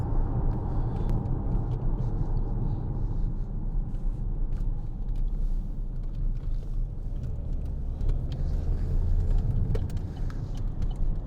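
A 2014 Vauxhall Insignia 2.0 CDTi diesel accelerates with a steady, loud low rumble of engine and road noise, heard continuously from inside with no talk.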